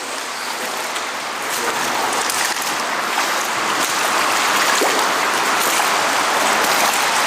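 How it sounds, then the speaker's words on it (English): Someone wades through water in an underground tunnel near a graveyard entrance, producing loud continuous splashing and sloshing that echoes evenly throughout, with no voices. "I'm gonna wade through the water."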